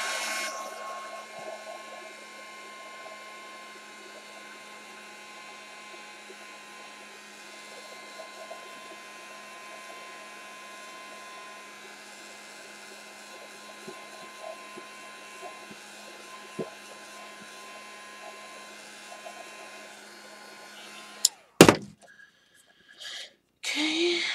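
A hair dryer blows steadily on a craft project, a constant close whooshing hum that runs for about twenty seconds before cutting off with a few clunks.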